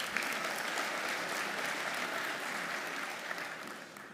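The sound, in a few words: audience applause at a congress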